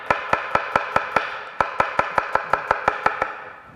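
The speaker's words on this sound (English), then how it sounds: "Onions, you need to slice them finely." A knife finely slices onions on a cutting board in a crisp, evenly paced run of about sixteen close, distinct chops, with one brief pause midway.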